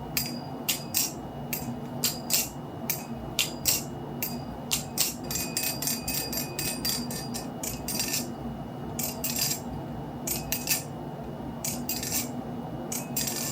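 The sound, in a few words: flipping a DLC-coated JK Orca balisong knife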